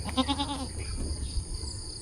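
On a farm, a goat lets out one close, wavering bleat lasting under a second, followed by quieter rustling and faint animal sounds.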